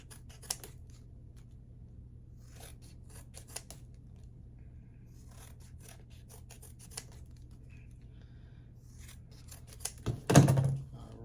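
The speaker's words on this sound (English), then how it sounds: "we're gonna go ahead and trim this to the size that we want" Scissors trimming a hang tag, heard as a scattering of faint, soft snips over a low steady hum, ending in a louder close thunk.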